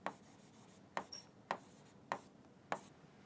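Chalk or marker strokes on a board while a physics problem is worked out, five short distinct scraping strokes spaced about half a second apart, close and fairly quiet with no talking.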